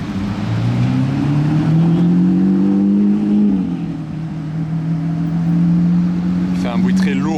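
Audi RS6 fitted with a Capristo exhaust revs hard nearby on a Monaco street, giving a deep, heavy engine drone that rises, holds and dips over several seconds. Someone speaks French over the engine.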